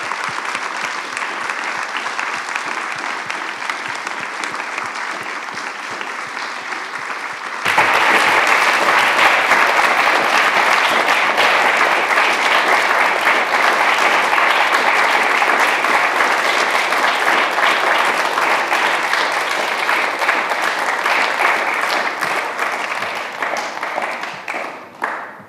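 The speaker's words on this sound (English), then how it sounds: "we can applaud her." Sustained applause from an audience after a university conference lecture in Namur, a dense wash of many hands clapping that swells louder partway through and carries on steadily before tapering at the end.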